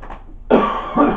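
A single short cough, made of two quick bursts, sounds close and fairly loud after a soft breath, with no talk.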